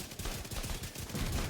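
Rapid automatic gunfire from a weapon in The Division 2, fired from cover, a dense, continuous muffled rattle of shots with low booming thuds, steady and unbroken throughout.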